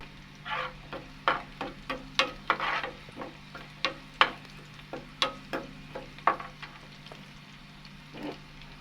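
Mustard seeds and fenugreek crackle and spit in hot sesame oil, irregular sharp pops rising over a low steady sizzle, close and fairly quiet, for pickle making.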